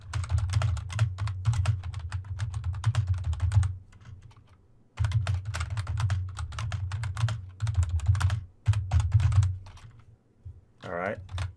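Rapid keystrokes on a computer keyboard while entering text into a file, clustered in bursts with brief pauses, fairly close and clear, with a low steady hum beneath.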